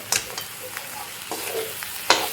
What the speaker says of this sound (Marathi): ते आपण सगळं कढईत घालूया आणि चांगलंसं आपल्याला मिक्स करून घ्यायचं आहे